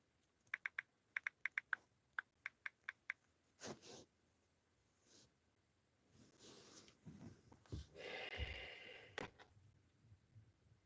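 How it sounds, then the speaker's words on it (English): Typing on a computer keyboard, quick close clusters of crisp key taps in short bursts, followed by quieter rustling and handling noises in a quiet room, with no speech. "Let me type that down."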